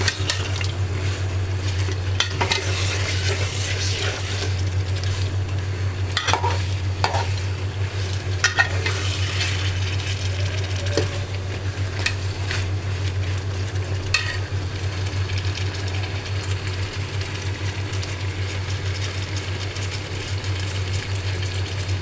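Meat and vegetables for a rainy-day bhuna khichuri are stirred in a pot, with steady frying sizzle throughout and repeated scrapes and clinks of a spoon against the pan, close and loud for the whole stretch.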